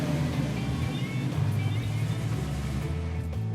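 A 1935 Plymouth fitted with custom exhaust runs loud and rough, a steady throaty rumble throughout, with voices talking over it.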